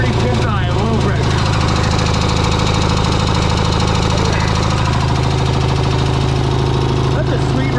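A 1979 Ford F-250 welding truck engine idles with a loud, steady, low rumble and a faint ticking, while someone talks nearby.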